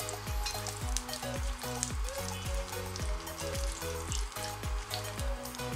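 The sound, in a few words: frying cinnamon, cloves and cardamom in oil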